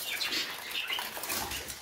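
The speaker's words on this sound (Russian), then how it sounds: "Птички начинают потихоньку вылетать." Budgerigars flutter out of their enclosure, with continuous fast wing flapping and faint chirps close by in an indoor room.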